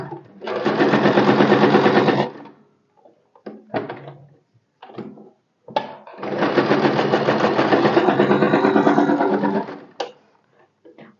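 A sewing machine stitches a blouse lining in two long, steady loud runs, the needle lowered at each turn of the fabric, with short bursts of handling and clicks between the runs.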